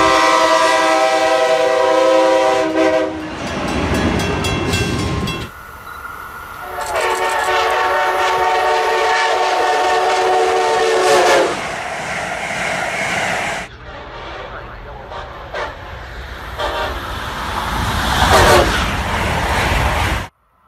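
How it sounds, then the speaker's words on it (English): An Amtrak Acela Express power car sounds its Nathan K5LA hybrid air horn in several loud, sustained chord blasts separated by short gaps, with rail rumble between them. "The power cars come equipped with a Nathan K5LA hybrid air horn."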